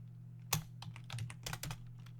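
Bursts of typing on a computer keyboard, several clustered keystrokes at close range over a steady low electrical hum, with no voices.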